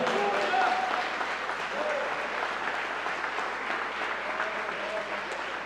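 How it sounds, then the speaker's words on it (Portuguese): A church congregation breaks into sustained applause, a steady wash of many hands clapping at an even level throughout, with a few voices calling out amid the clapping. "vale até uma salva de palmas que nós não demos ainda."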